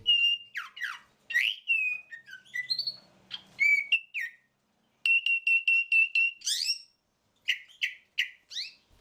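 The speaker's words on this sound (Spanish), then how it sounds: "El canto del cenzontle." Mockingbird (cenzontle) singing alone, a clear, close series of varied whistled phrases and repeated chirps in short bursts separated by brief pauses, with no voices.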